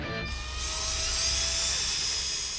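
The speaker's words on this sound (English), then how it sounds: "The drill is hooked to an original distributor, so it's simulating it's in a car and spinning around." A steady high-pitched electric drill whine runs continuously, close and loud, holding a constant spinning tone as the drill spins an original distributor for a Hemi engine.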